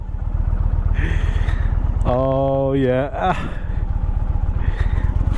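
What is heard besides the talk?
Indian Challenger Elite motorcycle engine during U-turns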